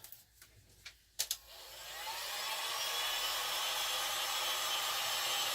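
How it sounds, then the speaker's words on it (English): A heat gun on a low setting blows steadily to dry glue on a decorated glass egg, a broad continuous whoosh that builds after a few soft knocks and handling sounds, with no talking. "I'm going to use the heat gun to dry this"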